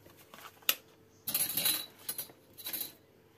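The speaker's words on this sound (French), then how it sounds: "je vais couper en biais." Paper is cut at an angle for a giant craft advent calendar, heard as a sharp tap followed by a few quiet bursts of crisp snipping and rustling close by.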